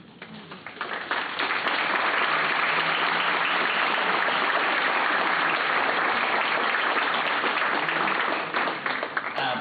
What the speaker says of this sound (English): A big round of applause to Mr. John Walls